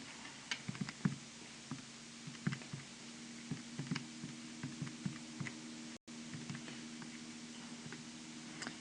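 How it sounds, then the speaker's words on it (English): Fingers pressing calculator buttons, a quiet, irregular run of soft plastic taps close by against a faint hum. "I can just type that into my calculator"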